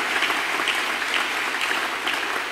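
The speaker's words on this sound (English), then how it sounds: "Join her and clap unto God." A church congregation claps together in a dense, steady patter of applause lasting a few seconds, with no voices heard over it.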